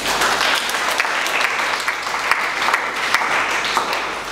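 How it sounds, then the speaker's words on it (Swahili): A church congregation claps loudly and continuously, dense applause close by with scattered sharper claps and no pause. "Mpe Yesu makofi."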